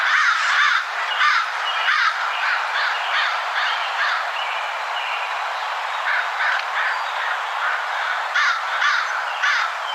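A recording of a crow plays, giving a long run of harsh, rasping caws in quick bursts, with clear, steady calls throughout and no voices.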